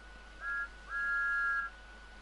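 Two steady steam locomotive whistle blasts in Train Sim World 5, a short toot then a longer held tone, clear against a quiet background hum.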